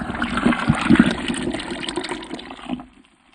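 Plant-based milk, two cups of it, is poured into a blender jar holding plant-based yogurt and cocoa powder, giving a steady liquid gush and gurgle for about two and a half seconds before it stops.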